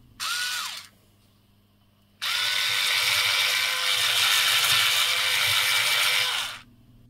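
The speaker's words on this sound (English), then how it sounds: "Difficult, so I use a drill." A small power drill whirs close by while cleaning corroded pins in the power connector of a German WW2 radio, first in a short burst, then after a pause in a longer steady run before stopping.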